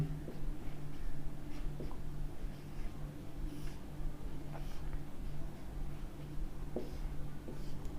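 A pen scratches steadily across paper while a maths solution is written out, close and continuous, with faint light taps over a low steady room hum.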